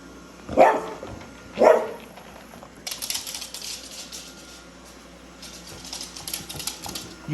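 A pet dog barks twice, loud and close, then scratching, clattering activity follows as it plays, with no more barking.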